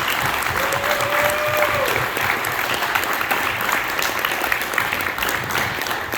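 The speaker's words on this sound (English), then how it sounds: "let's have a round of applause for everyone that's part of Panic Fest and Screenland" A film festival crowd at Panic Fest in Kansas City gives steady, dense applause that stays loud and even throughout, with a brief whistle early on.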